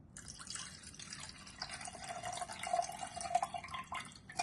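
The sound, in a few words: water being poured for blending paste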